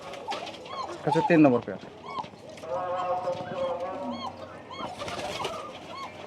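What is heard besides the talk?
pigeons cooing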